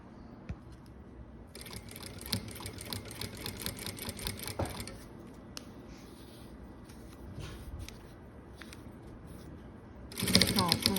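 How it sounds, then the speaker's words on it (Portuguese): A domestic sewing machine stitching a cosmetics pouch with backstitches, bursts of fast rattling needle chatter that stop and restart, close and steady, with a person talking softly around the stitching. "vamos fazer a costura aqui e dar retrocesso também, no começo e no final"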